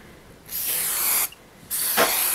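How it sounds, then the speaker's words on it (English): Two sharp hissing bursts of aerosol hairspray sprayed onto a door, close and loud, separated by a brief pause. "I want to spray some hairspray on the door real fast."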